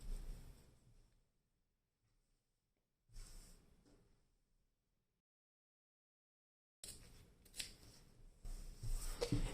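Scissors trim the fabric seam allowance on a cuff of a Bardot top, giving three short bursts of close cutting and rustling, separated by silent pauses.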